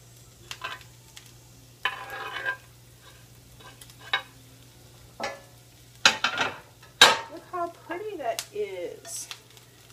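Squash and zucchini pushed from a board into a hot oiled pan, giving quiet scraping, utensil clinks and bursts of sizzle in a home kitchen, with a voice speaking briefly in between.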